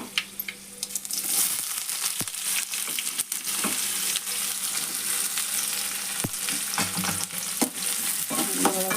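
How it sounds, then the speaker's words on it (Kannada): Onions fry in hot oil with mustard seeds and curry leaves for a North Karnataka style cauliflower dish, a loud, close, steady sizzle broken by scraping and stirring clatter from a spoon in the pan. "ಫ್ರೈ ಮಾಡೋಣ ಉಳ್ಳಾಗಡ್ಡೆ ಒಳಗೆ ಸರಿ ಹಾಕಬೇಕು"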